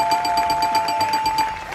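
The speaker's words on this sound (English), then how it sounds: "Let me press the buzzer now and see who we will hear from next." A game show buzzer sounds as a steady electronic tone with a fast, pulsing ring, heard alone for under two seconds at moderate volume.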